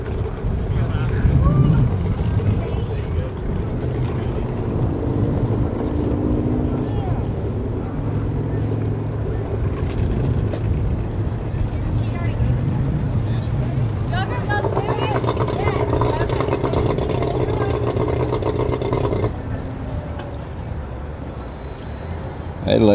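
Two-stroke outboard motor on a boat running steadily and loudly near a boat ramp, a continuous drone with people talking over it throughout.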